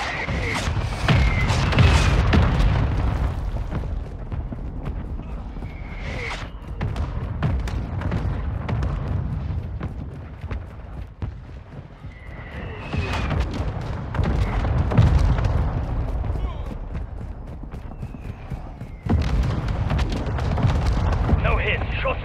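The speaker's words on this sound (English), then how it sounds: "Mortar strike inbound." Repeated heavy mortar strike explosions in a video game, deep rumbling booms rolling in several waves over the stretch, with voices and radio chatter over them.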